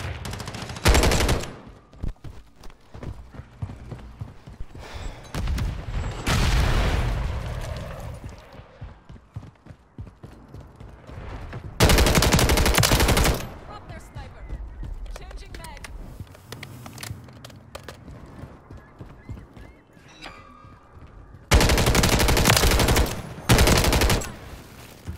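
Rifle fire in a team deathmatch video game, several loud bursts of rapid shots separated by quieter stretches, with a person talking in between.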